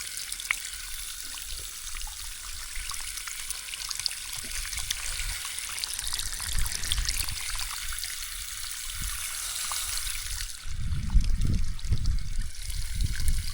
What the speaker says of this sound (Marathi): ह्या पाईपामध्ये असं पाणी अगोदर साचायला लागले आणि पुन्हा ह्या नळाद्वारे पाणी तिकडे जाते.